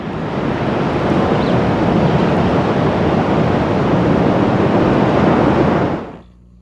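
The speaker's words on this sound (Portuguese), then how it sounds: "Este penhasco, que avança para o mar, tem uma caverna no centro do impacto das ondas." Ocean waves crash steadily into a cave at the centre of a sea cliff jutting into the sea, making a loud, dense, unbroken roar of surf that cuts off abruptly near the end.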